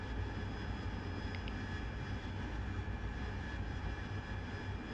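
AV-8B Harrier jet engine at 85% throttle in DCS World, a steady loud broadband roar with a faint high whine, continuous and unchanging throughout with no talk.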